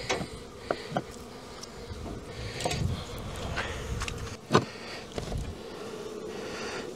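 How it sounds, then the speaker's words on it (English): Honeybees buzz around an opened non-tablet hive in spring, a steady close hum of many wings with scattered louder passes, light wooden knocks and scraping from handling the hive. "This is a non-tablet hive, and they certainly are animated as well."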